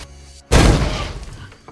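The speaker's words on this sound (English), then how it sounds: "He lights the firecracker and it explodes in his hand." A quarter-stick firecracker duct-taped to a man's hand goes off in one sudden loud blast, followed by a rumbling, crackling decay that lingers for about a second.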